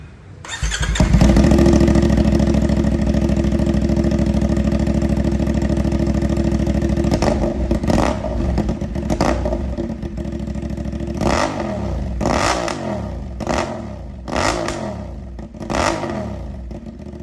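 A CF Moto 450 SR motorcycle fitted with a full system exhaust starts up loudly, settles into a steady, throaty idle for several seconds, then gives a series of sharp, rising revs, close and dominant.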